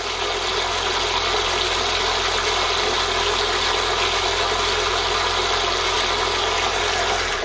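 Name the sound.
mixer motor running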